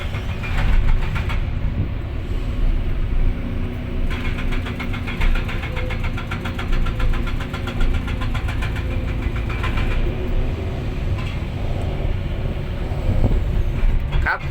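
A Komatsu PC200-5 excavator's diesel engine runs steadily and loudly up close, a continuous mechanical drone with rattling and clanking that holds for the whole stretch.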